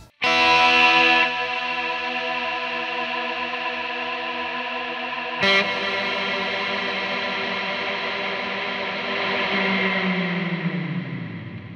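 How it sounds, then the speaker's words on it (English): A guitar played through a reverb pedal sustains lush, shimmering chords that wash together into a long, slowly fading tail, with one fresh strike midway, and no talking. "And here is how it works with the reverb."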